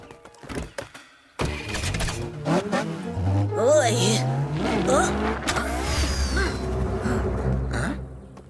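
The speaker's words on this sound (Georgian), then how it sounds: "მანქანა თავისით იმართება" A self-driving cartoon car revs and whirs as it moves off, its engine rising and falling in pitch. The car is close and loud, with animated character voices and effects layered over it.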